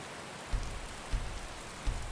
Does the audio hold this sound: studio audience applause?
no